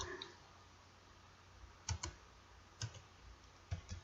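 Typing capital letters in Notepad on a computer keyboard, three short pairs of close, crisp key clicks spaced about a second apart over quiet background hiss.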